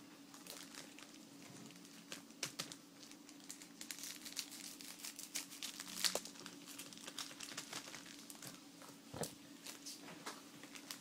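Trading card packs from a BT07 booster box being cut and opened, with crinkly foil rustling and crumpling in repeated short bursts close up, plus a few sharper snips, with no talking.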